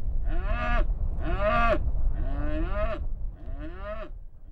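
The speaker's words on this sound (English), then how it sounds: "Cows are completely grass-fed. They eat. They just graze on the pasture." Grass-fed cattle on open pasture moo four times in a row, loud and close, each call drawn out with short gaps between.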